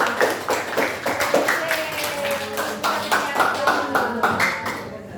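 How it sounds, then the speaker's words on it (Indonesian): Students in a classroom clap their hands in a burst of distinct, fairly close claps that run unevenly throughout, with a teacher's voice and some chatter speaking over the clapping. "Tepuk tangan dulu untuk anak dulu."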